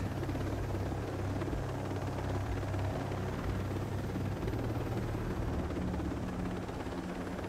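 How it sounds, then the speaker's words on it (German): A helicopter flies in the video game Ghost Recon Breakpoint, making a loud, continuous rotor thrum and engine roar that stays steady throughout with no talking. "Der Hubschrauber voll bemannt."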